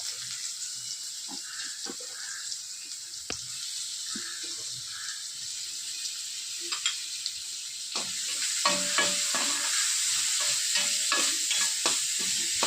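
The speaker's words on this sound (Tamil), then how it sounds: "இப்போ நம்ம எடுத்து வச்ச வெங்காயத்தை போட்டு நல்லா பொன்னிறமாக கொஞ்சம் வதக்கணுங்க" Onions sauté in a pan with cumin seeds, giving a steady soft sizzle with scattered stirring clicks and scrapes that turn busier and louder partway through, close and without talk.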